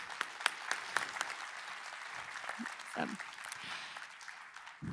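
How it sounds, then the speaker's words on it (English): Audience applause for the speakers at a RootsTech LIVE conference session, a steady broadband wash of many hands clapping from start to finish, with some voices faintly mixed in. "Let's have another round of applause for all of our speakers"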